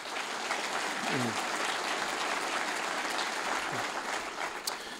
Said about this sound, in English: Let's please have a round of applause for our panel.